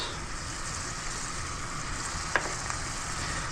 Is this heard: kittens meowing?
no